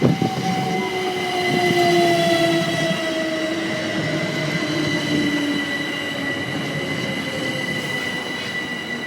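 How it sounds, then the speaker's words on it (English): A Greater Anglia class 755 train passes through Waterbeach station, a loud steady rush of wheels on rails with high squealing wheel tones and gliding motor whine, close and continuous throughout. "Now is a Greater Anglia heading to Stansted Airport, class 755."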